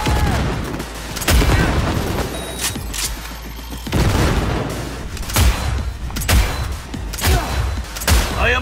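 Gunfire in Cyberpunk 2077, loud bursts of rapid shots and heavy booms, several volleys separated by brief lulls, close and dominant throughout.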